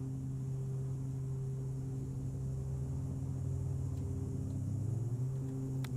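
An aircraft engine starts up in Flight Simulator X, a steady low droning rumble that builds and shifts slightly in pitch, heard alone and continuously throughout.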